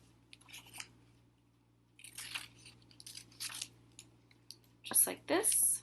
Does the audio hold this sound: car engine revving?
no